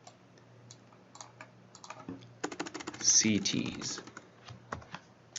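Keys clatter on a computer keyboard as a layer name is typed, a quick burst of close, crisp taps under brief quiet speech.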